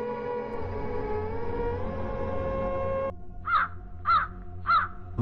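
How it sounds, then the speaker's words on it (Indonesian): Three harsh caws from a crow ring out at a steady pace after a steady droning hum cuts off, fairly close and clear. "Suara burung gagak"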